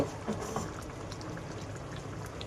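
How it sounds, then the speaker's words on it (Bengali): Chicken simmering in a pot for homemade biryani with fried onion and biryani masala, a soft, steady bubbling and popping close by, with no one talking. "চিকেন এখন সেদ্ধ চলছে।"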